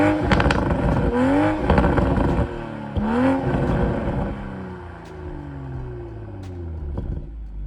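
The active exhaust of a Toyota GR Supra 45th Anniversary Edition, a 3.0 model, roars in two sharp rising revs close by, then settles into a falling, rumbling idle-down with a few pops.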